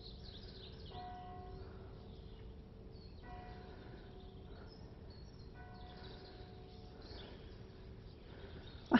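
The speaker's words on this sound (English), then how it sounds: "Can you hear the church bells?" Country church bells ring at Ranworth Broad in repeated faint, distant peals with long tones, spaced a few seconds apart over quiet outdoor ambience.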